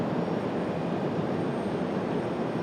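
An airliner departing Raleigh-Durham airport for JFK roars steadily on its takeoff run, a loud, continuous broadband jet rumble that holds constant without pause or talk.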